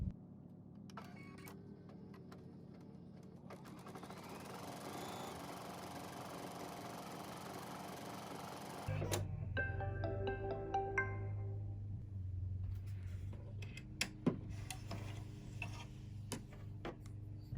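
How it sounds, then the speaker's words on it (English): An embroidery machine stitches fabric pieces for a zipper wristlet bag, giving a steady mechanical hum with rapid ticking that grows louder and heavier partway through. "Now it's time to embroider."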